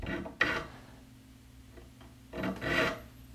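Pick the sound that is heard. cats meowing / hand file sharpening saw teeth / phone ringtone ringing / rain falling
hand file sharpening saw teeth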